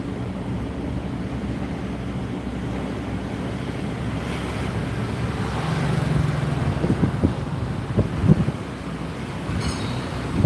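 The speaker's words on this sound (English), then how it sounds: "And this is the Riverside. The river's right there." Riverside ambience in Phnom Penh, with steady wind and rushing water forming a continuous broadband wash, and a few faint knocks and clatters near the end.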